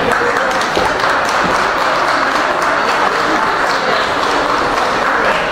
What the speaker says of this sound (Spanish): La recibimos a Teresa Echeveste con un fuerte aplauso